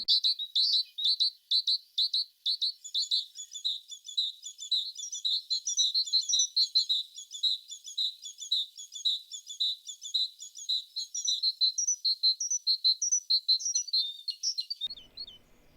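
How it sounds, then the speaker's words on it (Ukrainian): Great tits sing in winter, a steady stream of bright, high repeated chirps and calls carrying on for over fifteen seconds, clear and fairly close with no talking. "Синички дуже люблять співати взимку."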